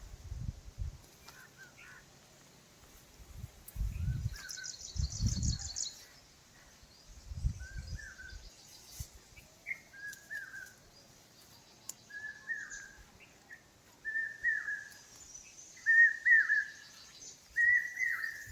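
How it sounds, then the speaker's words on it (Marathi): Birds sing in the Konkan countryside near Dapoli, with repeated short whistled phrases growing louder toward the end, over quiet farm ambience with low rumbling thumps and a brief buzz of insects. "नॅचरल पक्ष्यांचे आवाज येत आहेत"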